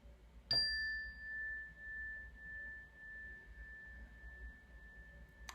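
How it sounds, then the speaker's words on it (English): A meditation bell struck once, a clear bright strike followed by a long pure ringing tone that sustains quietly to the end of the clip, with no talking. "I'll ring the bell to begin today's meditation."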